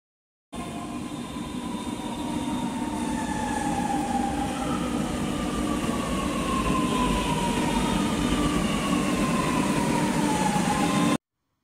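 A Lucknow Metro train runs from Charbagh with a loud, continuous rumble and rising whine of motors, steady and close, with no talk over it.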